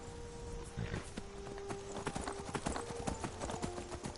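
Hooves of Roach, a horse in a video game, clip-clop in a steady trotting rhythm, close and clear over game ambience, with one brief whinny-like burst early on.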